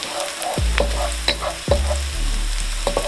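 Radish cake fries in a pan on medium heat with a continuous close sizzle, broken by a few scraping stirs and knocks of a utensil against the pan.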